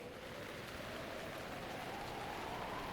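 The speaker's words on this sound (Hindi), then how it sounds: "जोरों से बारिश हो रही थी" Heavy rain pours steadily at a station, a dense, even hiss of falling water with no letup and no voices.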